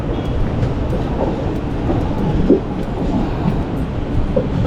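The Palaruvi Express rumbles along steadily with a low, continuous roar and faint rhythmic clatter, close by and fairly loud, pulling into Thrissur railway station.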